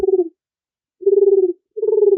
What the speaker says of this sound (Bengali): চলতে চলতে সে হঠাৎ দেখতে পায় একটি গাছে দুটি পায়রা